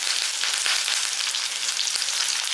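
Shallots, green chilies, curry leaves and dried red chilies sauté in a pan with a continuous, close, bright hissing sizzle that stays even and unbroken throughout.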